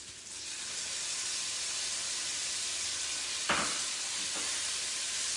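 Tomato dropped into a hot pan for Parsi papeta, a steady loud sizzle and hiss throughout with a brief sharper crackle and stir as it lands midway, no talking.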